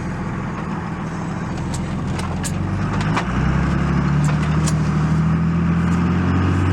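Vehicle engine droning steadily on a quick test ride, close and loud with a constant road rumble, the pitch rising slightly as it speeds up partway through, with faint clicks and ticks on top.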